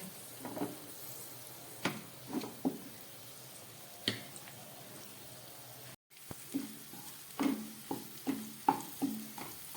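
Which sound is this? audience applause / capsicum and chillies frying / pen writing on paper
capsicum and chillies frying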